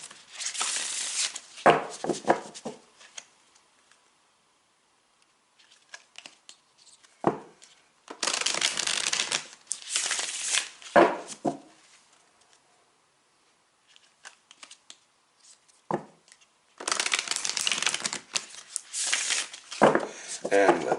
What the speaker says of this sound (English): So let's shuffle the cards here.